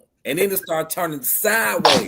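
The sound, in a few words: sneeze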